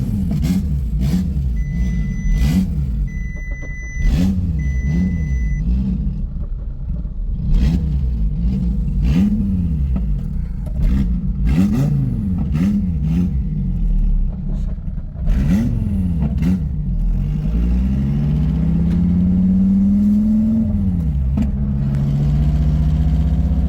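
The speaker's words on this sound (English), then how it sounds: "You can also hear that loud ass throttle bearing or clutch shatter." A manual car with a slave cylinder air gap and a loud clutch or throttle bearing drives with its engine revving in repeated rising and falling surges, close and loud, followed by a longer sustained climb in pitch near the end.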